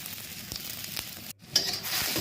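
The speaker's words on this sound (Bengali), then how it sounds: "ঝুরি করে রাখা সবজিগুলো একসাথে এই পেঁয়াজ কুচি এবং গরম মশলার সাথে ভেজে নিই" Chopped onion, green chilies and whole garam masala fry in soybean oil, giving a steady low sizzle with a few spoon scrapes and stirring clicks, briefly dropping out before resuming with a brighter hiss.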